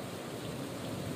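Steady, dense hiss of heavy rain during a thunderstorm pours down on a greenhouse, heard from a nearby room, continuous and fairly close with no voices.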